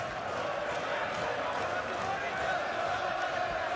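Noisy crowd at a professional boxing match, a dense continuous roar of spectators beneath an excited commentator's voice.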